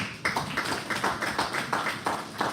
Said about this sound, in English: Please, he also deserves a round of applause